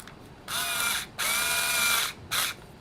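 A bolt being tightened on a Losi 5ive-B RC car, heard as three bursts of whirring, ratcheting tool noise: two longer runs of about a second each, then a short final burst, close and alone.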